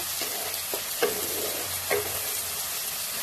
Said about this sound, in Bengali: ভালো করে পেঁয়াজের কাঁচা গন্ধটা যাওয়া পর্যন্ত আমরা পেঁয়াজটাকে ভালো করে ভেজে নেব